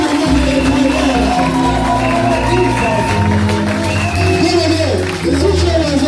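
Men in a church congregation at a New Year's Eve crossover service cheering and shouting together, a loud continuous crowd roar with raised voices and sustained tones, close and energetic throughout.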